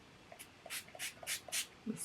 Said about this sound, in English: The spray is not the best, so I feel like I want to put that on my hands.